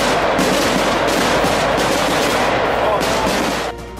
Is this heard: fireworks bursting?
yes